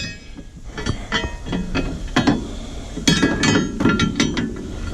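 Metal parts clink and rattle as a Polaris RZR winch mounting plate is wrestled out of the vehicle, with a run of scattered knocks and scrapes and a louder clatter near the end.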